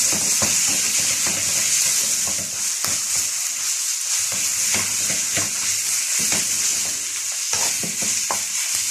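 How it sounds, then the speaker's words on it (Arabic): Minced meat fries in a pan with a constant loud sizzle while a utensil stirs and scrapes through it repeatedly, making irregular clattering knocks against the pan over the hiss. "التقليب مستمر لغايه ما تفك."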